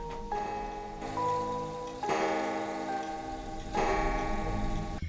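A steady mechanical grandfather clock ticks in a quiet room, with faint chime-like tones ringing beneath; no voices.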